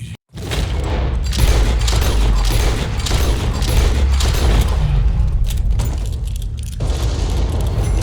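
Gunfire in Red Dead Redemption 2 during a legendary cougar hunt: a sharp loud shot followed by a sustained rumbling boom and heavy echoing tail, with no voices over it.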